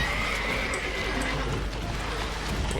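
A horse in The Witcher 3 whinnies once up close, a drawn-out neigh ringing steadily over a dense game ambience of wind and background rumble, with no talking over it.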